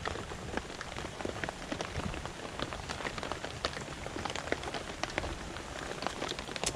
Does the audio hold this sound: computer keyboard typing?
no